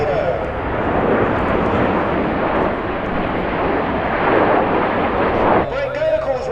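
A Tornado jet roars low over the Goodwood Festival of Speed in a loud, sustained, broadband rush that fades abruptly near the end, with voices heard alongside.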